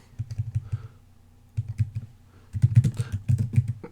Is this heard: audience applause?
no